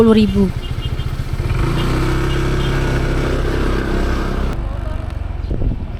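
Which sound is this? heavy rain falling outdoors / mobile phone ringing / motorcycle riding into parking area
motorcycle riding into parking area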